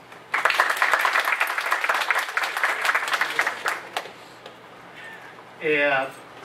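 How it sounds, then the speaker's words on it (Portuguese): Audience applause for two speakers at a Portuguese-language talk on Bitcoin and digital currency innovation, a dense burst of clapping that fills the first few seconds, then thins and fades, with a short voice near the end. "para agradecer a presença dos dois, crio uma salva de palmas"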